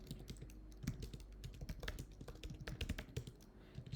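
Typing on a computer keyboard while working in Cloud Shell, a quick irregular run of close, soft key clicks that continues for several seconds without talk.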